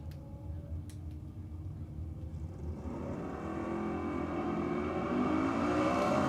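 At Sydney Dragway, an LX Torana and a Commodore, both with Holden motors, launch off the line in a drag race, engines building from a rumble into a rising, increasingly loud roar as they accelerate.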